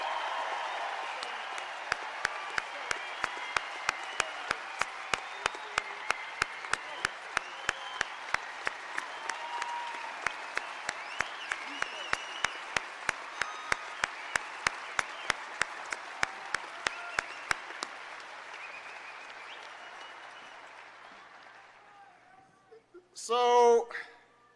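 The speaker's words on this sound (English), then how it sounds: "Give him a big round of applause." Long, sustained crowd applause greets a speech by the president on climate change at Lake Tahoe, Nevada, a broad steady roar of clapping that slowly softens before a voice briefly speaks at the very end.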